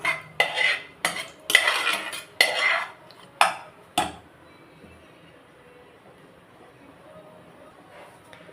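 Spices are sautéed in hot oil over low heat while a utensil scrapes and clinks against the pan in about eight quick strokes, loud and close, before the sound fades to a faint quiet background.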